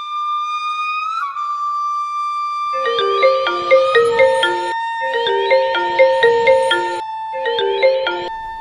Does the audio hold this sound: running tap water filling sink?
no